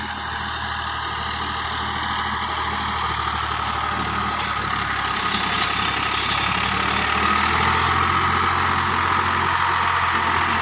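A Millat tractor engine runs steadily at idle, a continuous loud rumble with no pauses, heard alone without voices.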